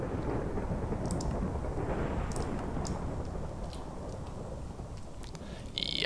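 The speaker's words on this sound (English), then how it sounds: "Thunderstorms while talking is not good." Rain and thunder from a thunderstorm in a blocky Minecraft-style game pour down as a steady, heavy broadband wash with faint crackles, continuing throughout without speech.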